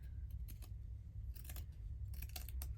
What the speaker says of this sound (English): cut a little strip